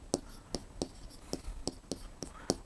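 Chalk or pen taps and strokes on a board during a Class 6 maths lesson on area, sharp regular clicks about twice a second, close and crisp, with faint talk underneath.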